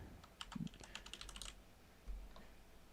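Fast typing on a computer keyboard, a quick run of faint, close key clicks followed by a few more scattered taps, heard alone with no talking.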